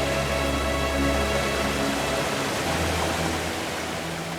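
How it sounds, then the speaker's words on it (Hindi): A waterfall in an outdoor setting gives off a steady, loud, broadband roar of rushing, falling water, unbroken and with no voices across the few seconds. "तो झरना देख रहे हैं ना?"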